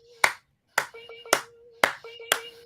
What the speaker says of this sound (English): This is a genuine clap.